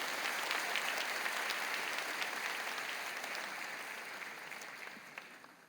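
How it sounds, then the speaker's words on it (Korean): A church congregation applauds to welcome a new pastor, steady dense clapping that slowly fades toward the end, heard from a distance in a large hall. "여러분 그의 박수로 환영하시지요."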